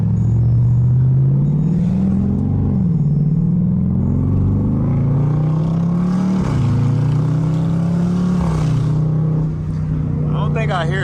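A 2017 Jeep SRT with an aFe carbon fiber intake drives along, its engine a loud continuous rumble that climbs and falls with throttle through the gears, heard steadily from inside the cabin.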